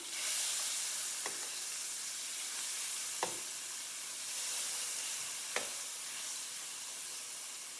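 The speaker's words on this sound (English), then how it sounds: "Okay, so we're just going to brown these on both sides." Liver pieces brown in a frying pan, making a soft, even hiss of frying with three brief sharp taps from the pan or utensil, close but fairly quiet.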